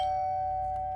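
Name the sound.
doorbell ringing in a horror video game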